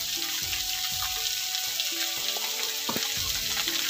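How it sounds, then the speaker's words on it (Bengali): Vegetables with cumin and turmeric powder fry quietly in a pan, giving a soft steady sizzle punctuated by light clinks and scrapes of a spoon stirring, with no one talking. "এবার সবজিটাকে আমি একটু ভাজতে থাকবো"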